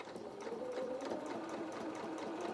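A sewing machine runs steadily, stitching around the edge of a felt elephant trunk for a doll head, a close, continuous mechanical whir with rapid needle ticks throughout.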